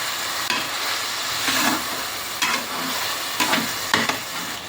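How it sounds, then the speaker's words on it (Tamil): Chickpea biryani ingredients, including tomato, coriander and mint, sizzle steadily in a hot pan while a utensil stirs and scrapes them in several distinct strokes, close up and without talking. "அதில் இதையும் சேர்த்து இப்போ நல்லா வதக்கணும்"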